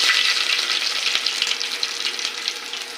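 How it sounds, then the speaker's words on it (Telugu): Garlic sizzles hard in hot oil with cumin, mustard seeds, dried red chilies and curry leaves, a loud, steady crackling fry close up with small pops, no voices. "ఇప్పుడు ఫస్ట్ మనము ఎల్లిపాయలు వేసుకుందాము."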